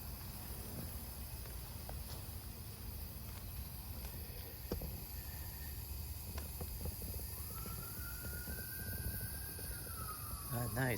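A faint siren wails far off, its tone rising and sweeping near the end, over a steady low rumble of background noise.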